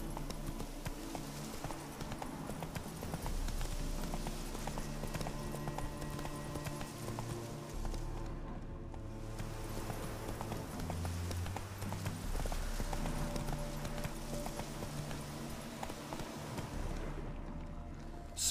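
A horse's hooves clip-clop in steady, rhythmic galloping in The Witcher 3 video game, loud and continuous for the whole stretch, with wind-like rushing behind it and no talk.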